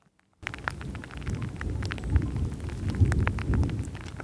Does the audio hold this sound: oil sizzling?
no